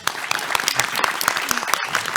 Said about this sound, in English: Round of applause for that pitch.